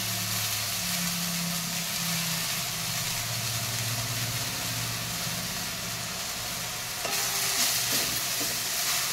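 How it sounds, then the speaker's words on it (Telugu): Mint leaves fry in leftover chilli oil in a pan with a steady, close sizzle that runs the whole time, and a short clatter of stirring comes near the end. "తర్వాత పుదీనాను ఏం ఆయిల్ వేయకుండానే, ఇందులో మిర్చి కోసం వేసిన ఆయిల్ ఉంది కదా అందులోనే సరిపోతుంది. వేపాలి మంచిగా."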